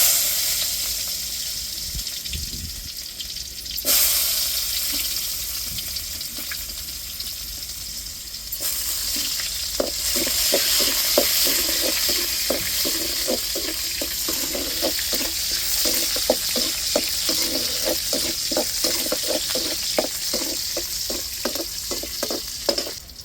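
Small onions and fenugreek frying in hot oil for fish curry: a continuous close sizzle, with a fresh burst as more goes in, then rapid rhythmic scraping of a spoon stirring the pan.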